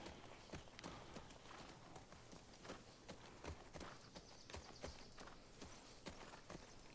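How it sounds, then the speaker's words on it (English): Horse galloping in the video game The Last of Us Part II, a quiet, quick, regular run of hoofbeats that keeps going throughout. "Maybe I can, you know, run around with a horse a little bit"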